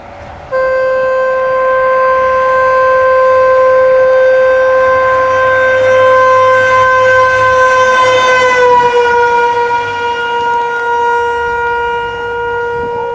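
A car horn blares in one long continuous tone as the car accelerates to 60 km/h, and its pitch drops noticeably partway through as the vehicle speeds along.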